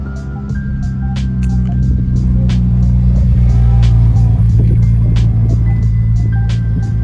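A Ferrari 296 GTB supercar engine rumbles loud and near at a car event, with a deep steady drone that builds slightly, sharp clicks and tones on top and faint crowd noise.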